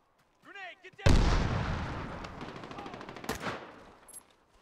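A loud burst of gunfire in Medal of Honor: Warfighter erupts after a brief electronic chirp, decaying into a rumbling echo with a second sharp shot near the end.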